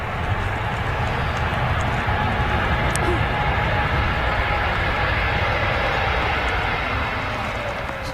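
Airbus A321neo jet engines at Manchester Airport roar loudly and continuously, a broad rushing rumble that fills the whole stretch without letting up.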